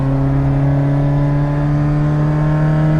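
A 1979 Fiat 127 Sport engine revs hard while driving, a loud steady drone with strong harmonic tones held throughout and no voices.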